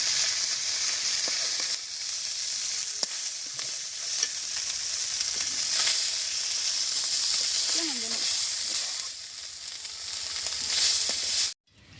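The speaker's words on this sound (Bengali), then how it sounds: "এই মাছটা আমার ভাজি হয়ে গেছে, আমি এখন নামাই নিতেছি" Khalisha and bata fish frying in oil in a pan, a dense continuous sizzle close up with occasional stirring scrapes, steady throughout before cutting off abruptly near the end.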